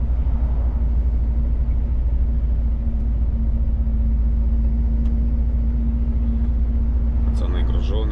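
A truck engine labouring heavily up a hill, a steady low rumble and drone throughout, loud and close, as from inside the cab, with people talking over it.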